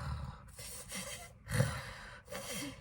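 A voice imitates heavy, tired breathing: three loud, breathy exhalations spaced about a second apart, each with a raspy, gasping edge, close to the mic with no talking.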